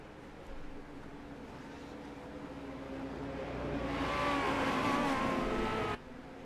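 Race cars rolling slowly around a short track on a pace lap at a Legends race, engines droning low and steady, swelling as the pack passes close, then dropping off abruptly.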